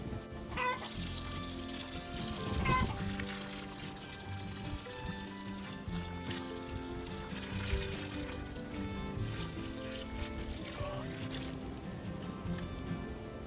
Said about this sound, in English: All right, I just filled this bucket with water. I'm just gonna add it on top.